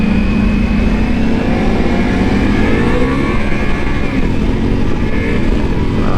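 A Ducati Multistrada V4S Pikes Peak adventure motorcycle, ridden on the road, pulls hard under acceleration with a loud rising engine drone and heavy wind rush throughout.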